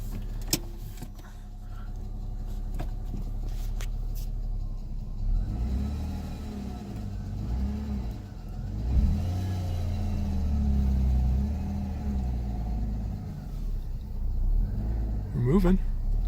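An all-wheel drive German car with a 5-speed gearbox, bought from a salvage auction, rolls off from a standstill with a low engine rumble and mechanical whirring while someone talks nearby.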